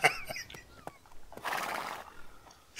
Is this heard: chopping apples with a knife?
no